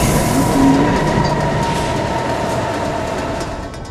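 A Munich S-Bahn commuter train on the S1 line rumbles loudly and steadily from inside the carriage, with a brief wheel squeal near the start and continuous rail noise, no talking.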